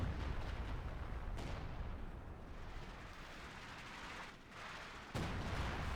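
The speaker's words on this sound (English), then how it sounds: "Bombarding Angry Dutchman position" A Company of Heroes 2 artillery barrage rumbles in a dense, continuous roar of overlapping explosions and booms, with one sharp fresh blast near the end, loud and without any voices.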